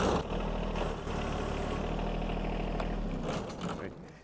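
A compact tractor engine runs steadily with a loud mid-pitched mechanical drone that holds throughout and eases slightly near the end, with some voice beneath it.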